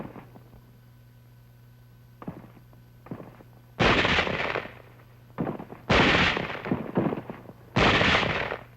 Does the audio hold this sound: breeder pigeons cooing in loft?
no